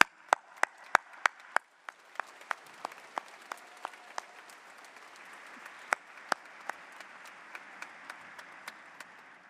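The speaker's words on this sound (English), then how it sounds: "Please join me in applauding these special guests" Sparse, distinct hand claps from a small commencement audience at an engineering college ceremony, a handful of sharp individual claps at first, then thinner scattered clapping that carries on through the rest of the moment.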